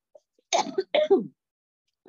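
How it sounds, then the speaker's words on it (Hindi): A person coughs twice in quick succession, close and clear, followed by a brief pause and a faint start of another sound. "सॉरी मुझे थोड़ी खांसी है"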